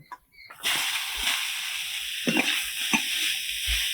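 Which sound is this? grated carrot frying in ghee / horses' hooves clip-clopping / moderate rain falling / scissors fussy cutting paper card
grated carrot frying in ghee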